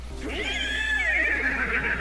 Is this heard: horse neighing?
yes